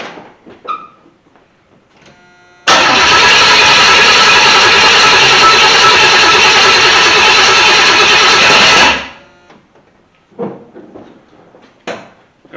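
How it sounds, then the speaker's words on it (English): A 1983 Chevy C10 squarebody being cranked over for about six seconds, a loud, steady starter churn close by that stops abruptly, with quiet clicks and handling noises before and after. "So crank it over a couple times, see if we can't fill the carb up."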